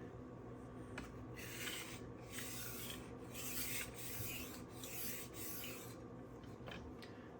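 A knife blade is drawn over a Rockstar 1000 grit stone on a SharpWorx Master 2 sharpener, giving steady rasping, scraping strokes that repeat in an even rhythm, close and moderately loud.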